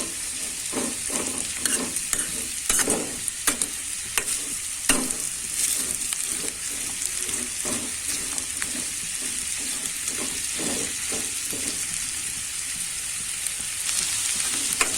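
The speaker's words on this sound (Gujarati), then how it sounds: "ચારથી પાંચ મિનિટ આ રીતના હલાવે રાખવાનું છે" Sweet potato halwa stirred in a pan for several minutes: a spoon scrapes and clatters in a steady rhythm over a constant low sizzle, close and clear.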